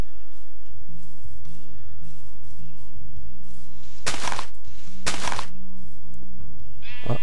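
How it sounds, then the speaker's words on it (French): Minecraft sheep bleat in the game over a steady background hum, with a few brief low bleats early on, then two loud bursts in quick succession and a final short call at the end. "Ah, d'autres moutons."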